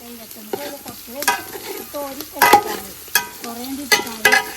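Food is stirred in a frying pan, with repeated loud scraping strokes of a spoon against the pan over a sizzle, while a warbling, voice-like tonal sound runs between the strokes.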